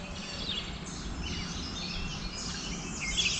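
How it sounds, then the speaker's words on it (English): Birds chirp and sing along Bald Eagle Creek in Pennsylvania, thin scattered calls rising over a steady wash of broadband background noise, with the calls growing busier toward the end. "The birds just picked up all of a sudden."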